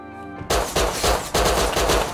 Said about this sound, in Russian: А кто это стреляет, слышь?